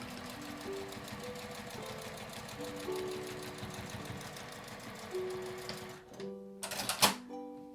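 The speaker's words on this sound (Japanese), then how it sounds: "1センチの縫い代で縫います。" A sewing machine stitches an IC card pouch with a 1 cm seam allowance, giving a steady quiet whirring run broken by brief pauses and small clicks, then a short mechanical clatter near the end.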